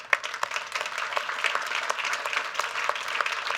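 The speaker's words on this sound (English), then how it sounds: "could you stand up and take one last round of applause?" Audience applause for event staff at a voting-in-America meeting: steady, dense clapping from a roomful of people, moderately loud and continuous, with no talk over it.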